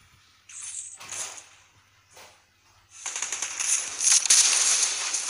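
Rapid gunfire from Layla, a marksman hero in Mobile Legends, shooting at a tower, with short bright bursts early, then a denser sustained volley of repeated shots building louder toward the end.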